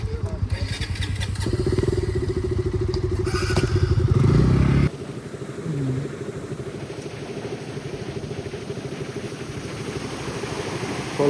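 A motorcycle rides over a rough road, its engine throbbing loudly and rattling at first, then dropping to a lower rumble with clatter and scraping, while people talk over it.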